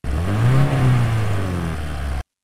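Car engine sound effect built in editing software, a steady mid-pitched engine hum rising in revs then easing off, close and alone for about two seconds before cutting out.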